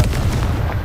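Confringo spell blast in a video game, a short, loud booming burst with a rumbling low-end thud, heard close and alone.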